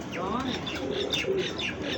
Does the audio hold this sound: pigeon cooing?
yes